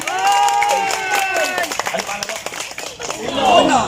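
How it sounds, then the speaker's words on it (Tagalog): At a fiesta gathering, a group claps on cue in a brief burst of sharp, quick claps. Loud chattering and cheering voices surround the clapping. "Palakpak pag tinuro ko ha"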